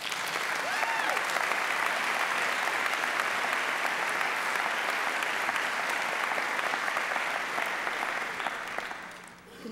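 Audience applause welcoming speaker Ruth Padilla DeBorst to the stage, a steady full room of clapping held at even loudness for nearly ten seconds before tapering off.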